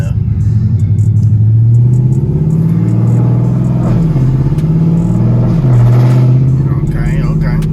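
A widebody Dodge Scat Pack's engine rumbles low and steady while driving, its pitch swelling and dipping with the throttle throughout, with someone talking over it.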